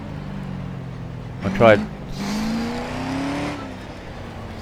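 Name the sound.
V8 Holden engine in video game Grid Autosport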